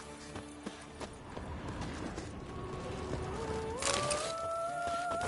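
Horse galloping in The Witcher 3, a rapid run of hoof clip-clops with creaking tack, fairly faint, joined midway by a rising tonal sound.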